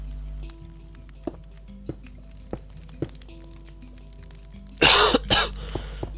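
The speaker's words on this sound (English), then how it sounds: "I keep coughing in the mic." Two harsh coughs close to the mic near the end, after a stretch of quiet soft taps and small thumps.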